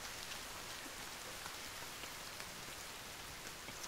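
Steady rain falls in The Forest video game, a dense, even hiss of drops on surfaces with no voices, continuous throughout.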